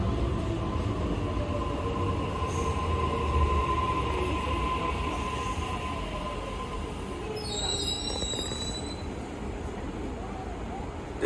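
A Sydney train runs through Lidcombe station without stopping, its steady rumble joined by high wheel squeals and a brief screech, with station announcements heard over it.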